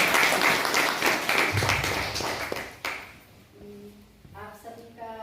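Dense clapping from a group at a farewell ceremony in Uttarakhand fills the first few seconds, then fades out as a voice begins speaking.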